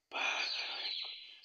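Birds call in the Garten of Banban video game, a single sustained, slightly wavering high cry that starts abruptly and holds for over a second, loud and close with no talk.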